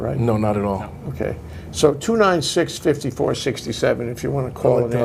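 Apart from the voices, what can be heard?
No everyday noise stands out behind the speech.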